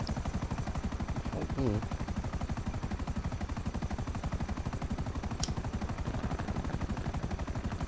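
A helicopter in the video game GTA 5 Online gives a steady, rapid rotor thump that runs loud and unbroken for the whole stretch, with a brief faint extra sound partway through.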